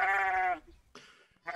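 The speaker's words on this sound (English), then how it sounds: "he found the lost sheep trapped in a tangle of thorns." A sheep gives a loud, close bleat lasting about half a second, followed by quieter, breathy bleating sounds shortly after.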